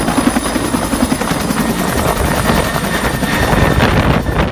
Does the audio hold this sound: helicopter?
yes